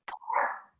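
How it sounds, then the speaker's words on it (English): A single short dog bark, close and fairly loud, opening with a sharp attack and trailing off into a brief tonal whine, with no voices. "Oh, sorry, my dog's barking now."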